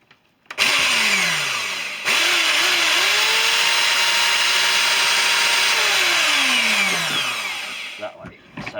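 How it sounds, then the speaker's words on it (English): An old belt sander runs steadily while a steel chisel held in a vise is sharpened against the belt, a loud continuous motor whine with grinding contact tones rising and falling over several seconds, starting abruptly and winding down at the end. "I thought I'd take this opportunity just to get the old belt sander out"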